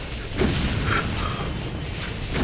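A grenade goes off in Doom's Plutonia Experiment with the Brutal mod, a muffled, booming blast swelling from about a half-second in and rumbling on, with a second thud near the end, close and fairly loud with no voices.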